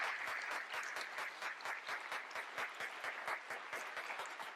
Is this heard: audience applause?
yes